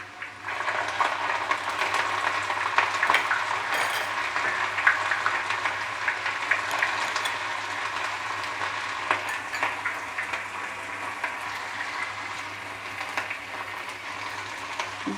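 Garlic and ginger fry in a pan on medium flame for Schezwan sauce, giving a steady, dense sizzle with crackling spits that runs continuously and close without a break.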